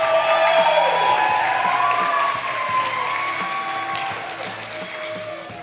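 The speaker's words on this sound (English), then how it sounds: "Let's give them another round of applause for their courage and poise." An audience at a children's pageant claps and cheers for the young contestants, a warm crowd roar with whoops and a rising whistle-like tone at the start, gradually easing off.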